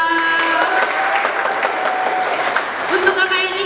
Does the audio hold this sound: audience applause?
yes